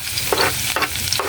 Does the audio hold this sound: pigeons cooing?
no